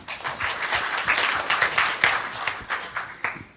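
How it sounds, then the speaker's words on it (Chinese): A conference audience at PyCon Taiwan 2019 claps steadily to welcome a speaker, a dense, loud wash of applause that holds for several seconds. "我们掌声欢迎"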